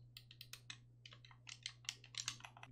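Computer keyboard keys pressed in quick irregular bursts of clicks while improvising game controls alongside an Xbox controller, close and fairly quiet over a steady low hum.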